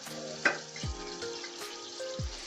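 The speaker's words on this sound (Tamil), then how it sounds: "நான் சிக்கன் மேரினேட் பண்ணி வச்சுருந்தேன், அதையும் ஃப்ரை பண்ணி எடுத்துக்கொள்ளலாம்." Marinated chicken sizzles in a hot pan, with a soft crackling fry and a few stirring scrapes, close up and without talk.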